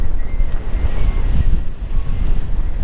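Strong wind buffets the microphone on Blackpool seafront, a loud, continuous low roar with gusty swells and no voices.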